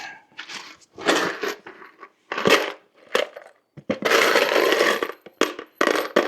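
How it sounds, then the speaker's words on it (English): Metal screws handled and rattled during a metal loft ceiling install, giving bursts of clinking and jingling in short clusters with gaps between, close and fairly loud, no talking. "See what kind of screws I got."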